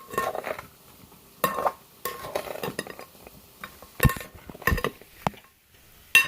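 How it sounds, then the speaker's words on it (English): Utensil stirring food in a pot, with repeated scraping and clinking strokes in irregular bursts, fairly close and loud, no talking. "Stirring this up really good."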